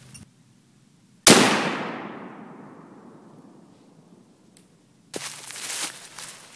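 A 7.62x39 full metal jacket rifle shot cracks sharply against an AR500 steel plate, one loud close impact with a long fading ring, followed several seconds later by a rustling, clattering noise.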